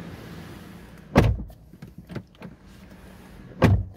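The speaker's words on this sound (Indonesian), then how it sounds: "kita tutup pintu mobil ini" The door of a 2021 Honda City Hatchback shuts with two solid thumps a couple of seconds apart, close and fairly loud, with faint rustling and clicks between them and no speech.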